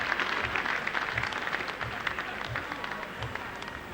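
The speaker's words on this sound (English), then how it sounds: "Generous applause, and rightly so, from this Oldham crowd." Applause from the crowd at a rugby league Challenge Cup third-round match between Oldham and Salford in 1991, a steady wash of clapping that runs through the whole stretch with a low rumble underneath.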